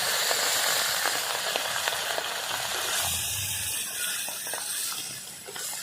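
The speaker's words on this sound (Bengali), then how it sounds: "আমি এইবার মাছ দিয়ে দেবো এক এক করে তেলের উপরে" Fish pieces fry one by one in hot oil in a blackened wok, giving a loud, steady sizzle and hiss with scattered crackles and spits throughout, close and without talk.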